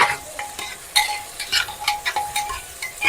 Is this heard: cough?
no